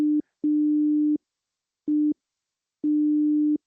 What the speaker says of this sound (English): whatever you're hearing right now, that's the Morse code actually